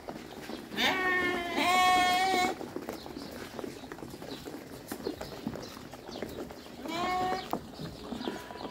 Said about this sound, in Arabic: العدد 52 خروف.